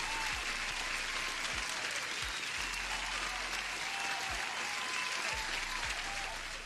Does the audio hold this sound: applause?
yes